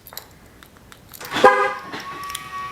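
Chevrolet Corvette C8 hardtop convertible locked twice, giving a short horn chirp after a soft click, fairly close, with quiet ambience before and after and no talking.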